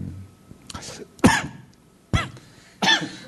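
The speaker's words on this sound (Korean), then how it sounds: "재채기가 나오네. 기침이 나오네." Several sharp coughs, about three or four, come in quick bursts with short pauses between, close and loud, with a brief throat-clearing sound.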